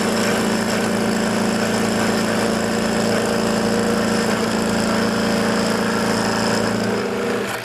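A wood lathe spins steadily as a bevel-rubbing tool cuts the body of a wooden reamer, producing a continuous loud motor hum with a rough scraping texture that eases off at the end.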